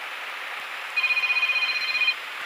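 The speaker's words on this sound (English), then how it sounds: "Phone's ringing." A phone rings in a Cessna 152 cockpit at Redlands airfield, a steady electronic trill of about a second over the constant hum of the engine and cabin.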